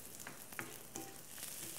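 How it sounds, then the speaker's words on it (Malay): Chopped ingredients sautéing in hot oil with dried chili and ginger for sizzling noodles give a steady, soft crackling sizzle with small pops throughout; no one speaks. "Kita tumiskan dulu bahan-bahan yang kita potong tadi tu."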